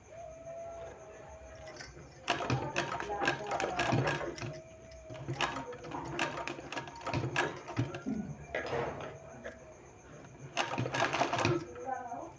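A sewing machine stitches a round neckline design on a garment sleeve, running in repeated close bursts of rapid mechanical clatter separated by short pauses.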